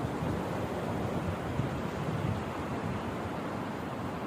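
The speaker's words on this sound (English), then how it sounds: "Look at the noisy wind." Gusty wind blows through swaying juniper and spruce trees outdoors, a loud, continuous rushing roar with no pauses and no voices.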